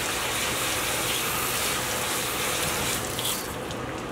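Tap water gushes steadily and loudly for a few seconds while rockfish, lingcod or halibut is being washed, tapering slightly near the end with no talk.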